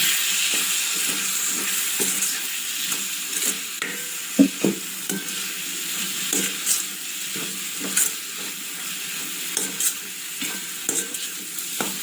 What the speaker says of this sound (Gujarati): હવે બધા જ મસાલાને આપણે સારી રીતે હલાવી દઈશું.